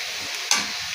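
Onions frying in a pan with turmeric added, a steady close hiss of sizzling oil with a brief louder burst of crackle midway, no voices.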